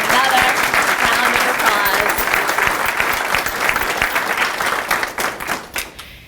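Loud, dense applause and clapping from the audience at a high school future educator signing ceremony, sustained for several seconds before thinning into scattered claps and dying out.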